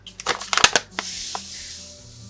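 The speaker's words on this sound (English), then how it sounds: "We're gonna add the salt and the apple cider vinegar." Salt and apple cider vinegar, a quarter cup of each, go into a pot of chicken stock. Quick close crunchy rattles and taps give way to a softer, steady pouring hiss.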